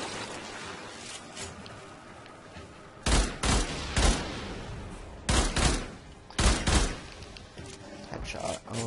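Gunfire from the video game Warframe: several loud bursts of shots in clusters, with a player speaking at times over the game audio.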